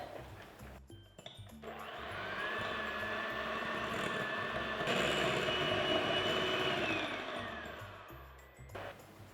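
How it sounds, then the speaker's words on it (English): Soft butter is whisked for cream cheese frosting for a carrot cake traybake, with a motor whine that rises, holds as a steady drone and then fades away, at moderate volume and close. "I've got some nice soft butter here and I'm going to whisk this for about 3 to 4 minutes until it's nice and soft"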